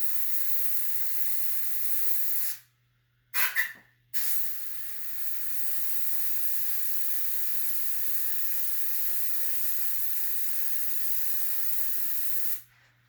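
An airbrush sprays paint onto a T-shirt in a steady, close hiss. It is broken by a short pause with a brief clatter, then runs on evenly for most of the clip.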